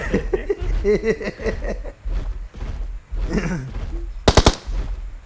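Automatic weapon fire in the battle royale game PUBG: a short, loud burst of rapid shots near the end, after stretches of excited talk and a chuckle among players.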